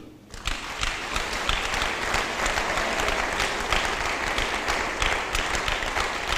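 A church congregation bursts into applause after a short quiet start, then keeps up loud, sustained clapping that fills the room to the end, with no talk over it.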